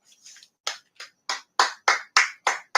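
A light two-finger clap, quiet at first, then about eight crisp, evenly spaced claps in a steady rhythm, close and alone.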